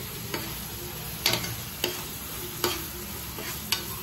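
Wet coconut paste roasting in a pan for crab masala, a low steady sizzle broken by sharp ladle taps and scrapes roughly every half second to second, no talking.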